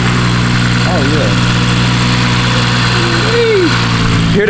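A BMW B58 engine idles with a steady, loud drone at a car meet, while people talk over it in the foreground.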